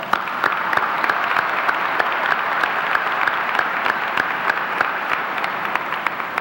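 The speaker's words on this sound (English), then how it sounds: "Please join me in a round of applause." A high school graduation crowd applauds the Board of Education trustees, sustained even clapping from many hands with sharper individual claps standing out throughout.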